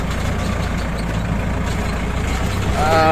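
A Kubota L5018SP tractor runs while mowing tall grass in a palm plantation, its engine a steady, loud, low rumble that holds evenly throughout, with rain conditions noted and a faint tonal whine entering near the end.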